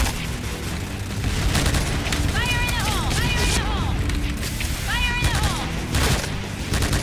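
Gunfire from a video game gun shooting three-round bursts, dense, loud rapid shots packed close together over battle noise and booms, while someone talks over the firing.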